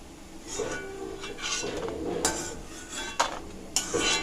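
Cashews roast in a pan for payasam, with scraping and clinking from a spoon against the metal and a few sharper knocks over a soft background sizzle.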